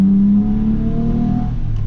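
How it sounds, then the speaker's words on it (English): A Toyota engine fitted with a K&N cold air intake revs hard nearby, a loud growling surge that holds briefly and then eases off. "It sounds like a really aggressive exhaust, which I already have one on, but when I punch it,"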